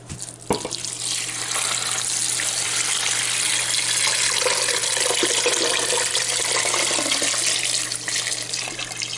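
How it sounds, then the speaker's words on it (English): Water pours steadily into a stock pot at a kitchen stove, a dense, continuous splashing rush that stays loud and close for the whole stretch, with a sharp knock near the start and no talking. "So let me start pouring my water in."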